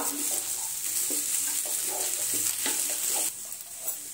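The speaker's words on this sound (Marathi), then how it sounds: "हे सर्व आपण परतून घेऊया।" Boiled potatoes and peanuts are tossed in a pan for a fasting-style potato dish, giving a gentle sizzle under a steady hiss with repeated soft scraping strokes of the spatula.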